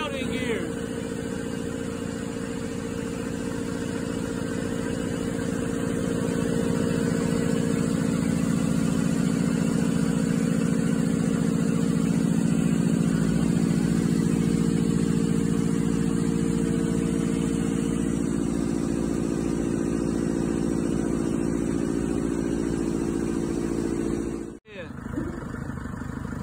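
A 2018 Anaconda FSL1000 runs steadily with its deck raised and the belt in gear, a loud continuous engine drone holding through nearly the whole stretch before dipping sharply near the end.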